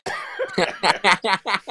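A man coughs repeatedly in a rapid series of about seven harsh bursts, close and fairly loud, during a live fantasy football team-selection chat.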